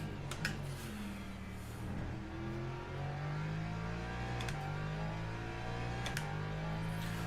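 A hypercar in the Le Mans Ultimate racing game passes with a steady engine drone that rises through several gear-change sweeps, alongside other in-game race car engine noise at moderate volume with no talk.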